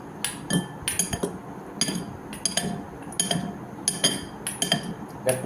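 Okra pieces being mixed with coconut oil in a bowl, with sharp, irregular clinks and taps of a utensil against the dish, some close together and some spaced out, over a faint background.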